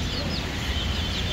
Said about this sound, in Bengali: এই যে শেরামা মুরগির বাচ্চা, কত সুন্দর দেখতে পাচ্ছেন